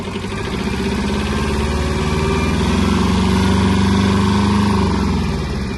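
A Kubota B-10 Japanese mini tractor engine runs steadily at a low, even idle-like pace while driving in first and low-range gear, its rumble holding constant and close with a slight swell midway.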